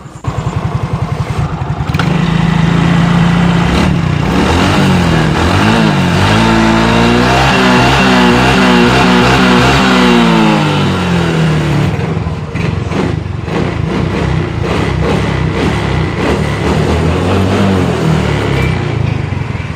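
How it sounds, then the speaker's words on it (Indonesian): A Yamaha Mio scooter, converted from fuel injection to a carburetor, runs loud and close: a steady idle, then throttle blips that rise and fall, settling back to an even idle. "Dan ini sudah menyala mesinnya."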